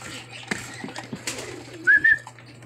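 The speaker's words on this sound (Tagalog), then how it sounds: "Dami ng ibon." Lovebirds in an aviary call and chirp close by, a brief burst of bird vocalizations with a short whistled note over a low steady hum, with faint human sounds in the background.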